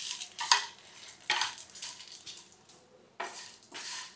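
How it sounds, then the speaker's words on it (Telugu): Sesame and coriander seeds dry-roast in a pan as a spoon stirs them in several separate scraping strokes, each with a soft rattle and clink, with quiet gaps between. "ఇప్పుడు నువ్వులు, ధనియాలు అన్నీ కలిసేటట్టు వేయించుకోవాలి."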